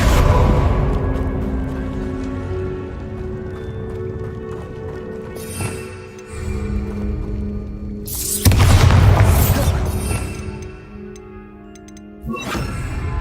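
Spell explosions from a Bombarda blasting charm in Hogwarts Legacy, a loud deep boom with a crashing burst midway and another blast near the end over continuous game rumble.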